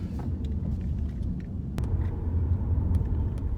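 A Nissan Leaf electric car rolling along a road, a steady low rumble of tyres and cabin noise with faint scattered clicks, heard from inside at moderate volume with no talk.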